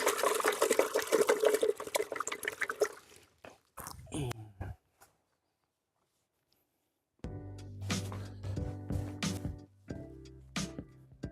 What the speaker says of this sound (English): Let's wash off some brushes.